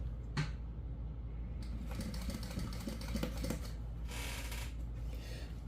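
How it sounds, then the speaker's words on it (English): A sewing machine stitches a folded edge onto a zipper set into compression stockings, giving a faint, steady mechanical whir with short bursts of rapid needle chatter, close by and with no talking. "as you're sewing this edge, folded edge onto the zipper"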